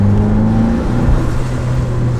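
A boosted Mitsubishi Lancer accelerates with its turbo spooling, a close, loud engine drone whose rising whine climbs in pitch through the short stretch.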